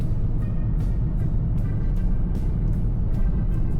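Cars travel along a hot road, making a loud, steady rumble of road and engine noise with faint, regularly spaced ticks running through it and no talk.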